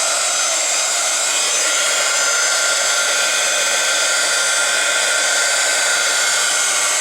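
Steady, loud broadband blowing from a heat gun pushing white resin across a resin art piece, continuous and close with no break or talk.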